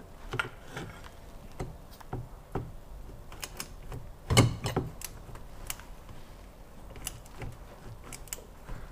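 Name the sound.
torque wrench tightening oil filter on VW Up GTI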